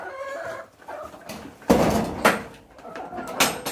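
Chickens cluck and squawk nearby amid clattering knocks and rustling, with scattered voices mixed in.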